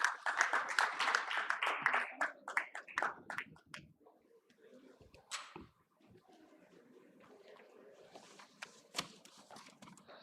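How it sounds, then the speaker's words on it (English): An audience applauds to welcome a speaker at a valedictory event, a dense burst of clapping that thins out after a few seconds into scattered claps and quiet room noise. "Please welcome with a round of applause."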